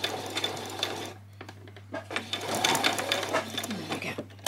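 Sewing machine stitching a short back stitch on skirt fabric, quiet rapid ticking bursts under a steady low hum, close and brief, with a voice talking in between.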